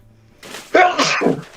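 A single sneeze bursts out at close range after a soft breathy intake, with a short trailing exhale.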